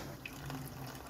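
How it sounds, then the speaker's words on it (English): Water pours steadily from a tap into a bowl of boiled, salted potato mixture, a continuous close hiss and trickle with no voices. "Sasa we are just going to put in some water,"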